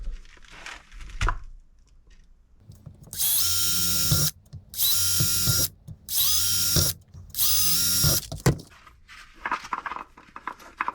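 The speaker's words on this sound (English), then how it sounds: "I'm going to drill a series of 4 holes." A power drill bores four holes into the top of a plastic catfish jug, four loud sustained bursts of whirring, each a second or so long, separated by short pauses.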